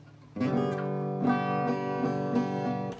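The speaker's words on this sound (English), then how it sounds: "When I play this guitar, it sounds like this." Acoustic guitar strummed up close, a few steady chords ringing warmly with no voices.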